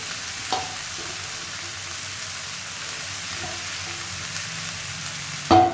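Vegan chili chicken made from wheat-flour meat fries in a pan with a low, steady sizzle. There is a brief clatter near the start and a sharper knock at the end.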